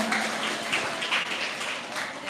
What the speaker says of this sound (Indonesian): Tepuk tangan untuk Ustadz Anas.